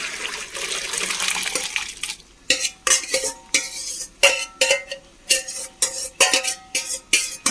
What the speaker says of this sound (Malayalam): ഇനി നമുക്കിത് ഊറ്റിയെടുക്കാം. ഇത് ഓട്ടപാത്രത്തിലേക്ക് ഒഴിക്കാം.